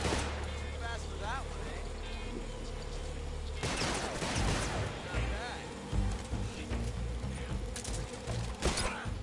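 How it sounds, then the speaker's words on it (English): An enemy fires repeatedly in the video game Metal Gear Solid Delta Snake Eater, with loud, close bursts of gunshots, a heavy volley partway through and scattered cracks over constant game noise. "He's gonna keep shooting me"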